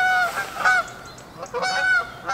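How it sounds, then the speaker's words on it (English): Canada geese honk in a couple of bursts of repeated nasal calls, fairly near and passing overhead, with quiet gaps between them. "If you excuse the Canadian geese, they're on their way."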